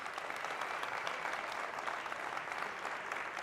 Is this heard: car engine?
no